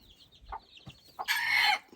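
Fighting-cock breed chickens cluck softly in a coop, a few scattered low calls ending in one loud, sustained squawk close by, with no talk.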